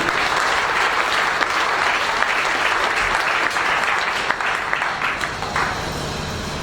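A church congregation breaks into sustained, dense applause that fills the room at steady loudness for the whole stretch and tapers slightly near the end, with no one speaking over it.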